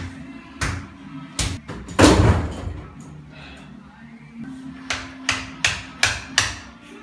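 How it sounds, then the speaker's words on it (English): Hammer blows driving a wooden shim: a few scattered knocks, one heavy crashing hit, then a run of five evenly spaced taps, close and fairly loud. "Here, you want to hammer it in?"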